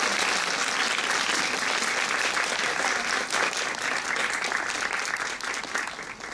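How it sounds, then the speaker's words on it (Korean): Audience at the Busan International Film Festival applauds the director at the close of a post-screening Q&A, a dense, steady wash of many hands clapping for several seconds, loud and close, with no talk. "격려의 박수 보내드리면서 정리하겠습니다"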